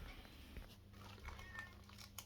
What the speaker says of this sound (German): Da hat eine Katze gemiaut.